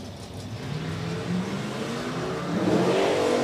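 Drag race cars launch hard off the line at a green light during a live main event, a loud sustained engine roar that builds toward the end, with no talk over it.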